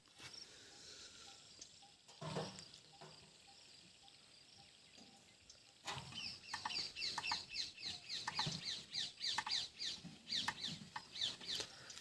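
Jungle fowl call repeatedly in a forest: a distant crow early on, then a rapid run of loud, sharp clucking calls filling the second half.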